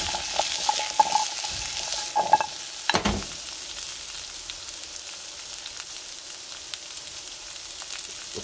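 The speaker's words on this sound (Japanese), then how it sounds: "かぼちゃから炒めようと思いました。" Pumpkin stir-fries in a pan for curry, giving a quiet, steady sizzle with a few utensil clinks and taps near the start, then even frying alone.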